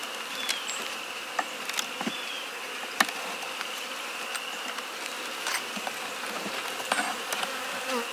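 Honey bees from a small colony buzz during a spring hive inspection, a soft continuous hum with occasional louder individual bees passing close by, and no voices.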